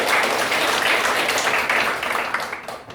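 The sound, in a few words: audience applause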